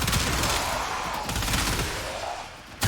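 Rapid hip-fire from an Incarnon Burston Prime rifle in Warframe, a dense, continuous stream of loud close shots that fills the whole stretch before cutting off abruptly with one final sharp report.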